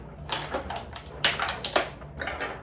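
A Cricut Maker cutting machine makes a test cut, giving a series of quick clicking, tapping mechanical bursts at an uneven pace, close and moderately loud.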